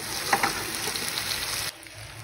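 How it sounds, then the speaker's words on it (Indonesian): Butter shrimp with spring onions stir-frying in a pan, a steady close sizzle with a couple of brief scrape accents early on, cutting off abruptly near the end. "Nah, tinggal di tumis-tumis aja."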